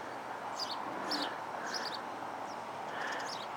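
Many birds chirp and tweet in quick, scattered bursts over a steady outdoor hum, some calls close and others farther off.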